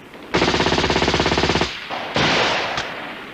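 Rapid automatic gunfire in a 1983 British Army training film depicting a clash with Soviet tanks and infantry: a loud sustained machine-gun burst of about twenty evenly spaced rounds, then a brief pause and a second heavy blast of fire.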